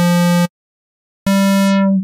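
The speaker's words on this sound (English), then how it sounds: "or a square wave." Two sustained square wave tones from the Ableton Operator synth, hollow and reedy, separated by a short silence; the second note sounds its upper harmonics fading as a filter closes, with no voices present.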